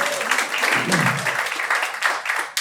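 Applause from the audience at the San Diego Opera annual meeting, a steady crowd clapping that runs for a few seconds and fades near the end, with faint voices mixed in.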